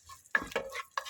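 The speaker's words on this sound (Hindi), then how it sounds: "और मिक्स कर लीजिए, थोड़ा सा फ्राई होने दीजिए।" Mint leaves are stirred in a hot pot of oil for vegetable biryani, giving a few short scraping stirs with a light sizzle beneath, close and fairly quiet.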